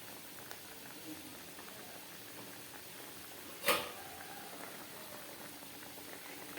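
Fish curry bubbles softly in a pot in a home kitchen, quiet and continuous. One sharp clatter cuts through midway.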